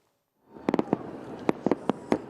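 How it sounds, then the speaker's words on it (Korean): Independence Day fireworks burst over the White House, a string of sharp, loud cracks and booms at irregular intervals over a rumbling crowd-like wash, with no talk. "독립기념일을 축하하는 불꽃놀이가 백악관 하늘을 수놓습니다."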